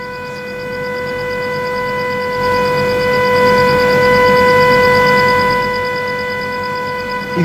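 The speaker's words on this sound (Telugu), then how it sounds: "ఇలా మొత్తం 10 డ్రోన్లను కూల్చేసిన నేపథ్యంలో ఈ సైరన్ యొక్క సౌండ్ ఈ మొత్తం హెవీగా వినిపిస్తుంది" A red alert air raid siren sounding across Jaisalmer, a loud sustained steady wail that swells slightly and holds for several seconds, with no speech over it.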